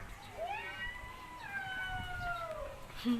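A cat meows in long, drawn-out, wavering cries outdoors at a Thai tourist spot, fairly faint against a low background hum, with one call sliding into the next.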